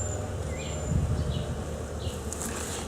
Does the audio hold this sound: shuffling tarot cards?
no